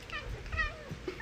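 A house cat meows twice in quick succession, close and clear, followed by a short faint chirp at the end.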